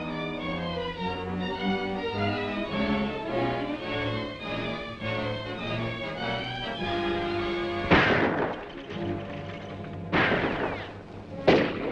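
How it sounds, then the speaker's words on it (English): Gunshots crack out in a western film, three sharp, loud reports arriving near the end, spaced a couple of seconds apart over a steady musical score. "Dixie, Frank, throw a couple of shots down there to hold his interest."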